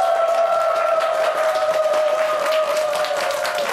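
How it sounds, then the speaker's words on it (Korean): Studio audience applause greeting a guest on a Korean morning talk show, continuous dense clapping with a sustained musical tone running beneath it throughout. "박수로 모시겠습니다"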